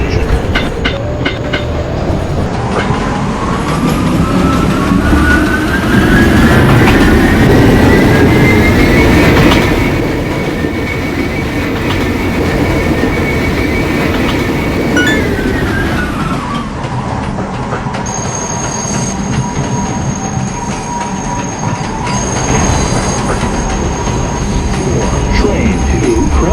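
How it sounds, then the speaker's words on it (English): An R127/R132 subway work train passes through a station, its loud rumble and rising wheel whine building steadily, then easing off as it moves away, with a platform announcement tone lingering at the end. "Approaching the station, please stand away from the platform edge."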